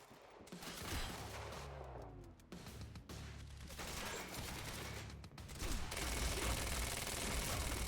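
Enemy gunfire in the shooter game Quantum Break rattles in dense, continuous bursts, with sharp shots crackling over a heavy rumble, loud and close, broken by brief gaps.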